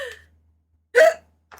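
A person hiccups during a livestream: a short faint catch, then one sharp, loud hiccup and a softer trailing breath, with no speech.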